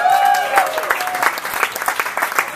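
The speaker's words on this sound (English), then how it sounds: "have we applauded the bartenders?" A crowd at a Chicago leadership council reception claps for the bartenders, a dense burst of applause that starts loud and tapers into scattered claps, with a brief voice at the very start.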